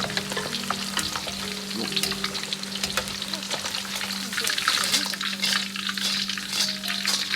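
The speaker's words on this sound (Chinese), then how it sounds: "再炸至50秒钟，炸至大虾都漂浮在油面" Large prawns deep-fry in oil heated over a medium flame, giving a loud, steady, close crackling sizzle throughout, with faint stirring and clinking underneath.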